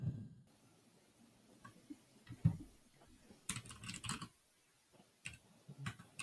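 Typing on a computer keyboard during a remote comedy interview, fast bursts of clicky keystrokes picked up close by a microphone, with pauses between runs and a little background noise.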